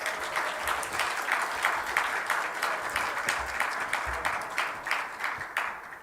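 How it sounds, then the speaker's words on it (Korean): A church congregation applauds steadily for several seconds, the clapping dense and sustained throughout with no voices over it. "끝까지 큰 박수로 우리"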